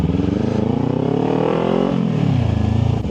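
Motorcycle ridden through a city area with a multi-level parking garage, engine droning loud and close throughout with a rising rev, dipping and climbing again under steady wind roar.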